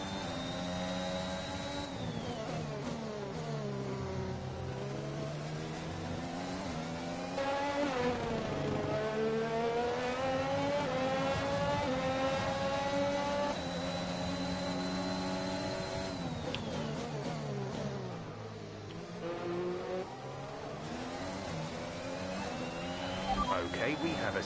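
An open-wheel Formula 1 race car engine, an Acura Team Penske car in the F1 2021 video game at the Portugal circuit, develops a severe engine fault. It sounds as a continuous loud whine that rises and falls in long sweeps as the car accelerates and slows.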